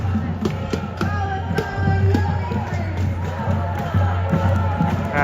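A crowd of protesters at night near a statue draped in a Palestinian flag, a loud continuous hubbub of many voices with occasional shouts, heard close while passing through.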